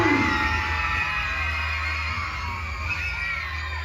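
A crowd of elementary school kids cheering and shouting at a junior hockey game in an arena, a dense, steady roar of young voices with a sharp bang at the start.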